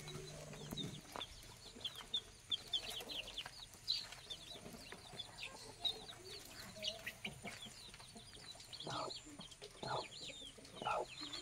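Chickens cluck and chirp repeatedly at a home on a rainy day, in faint, scattered calls over a soft background wash, with no talk.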